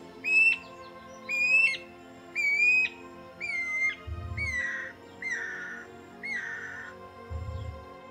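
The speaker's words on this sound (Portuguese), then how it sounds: "Essa espécie é o anu branco." A guira cuckoo (anu branco), a flocking bird known for a loud, powerful song, gives a series of about seven clear whistled notes, sliding and descending, then turning harsher toward the end, close and loud, with two low thumps.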